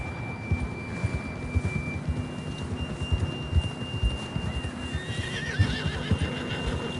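Horse neighing in Red Dead Redemption 2, with a whinny rising near the end over steady hoof clip-clop, thin in-game tones and ambient noise.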